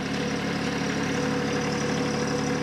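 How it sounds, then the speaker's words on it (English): A TYM T264 tractor engine runs at a steady idle, a constant close, loud rumble as the tractor backs away from its detached loader, with no voices. "we can back the tractor away."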